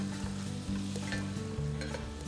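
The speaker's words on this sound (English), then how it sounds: "we're gonna start out by searing some chicken breasts here" Chicken breasts sear in hot oil in a pan, a faint steady sizzle with occasional stirring scrapes and utensil clatter, no talk.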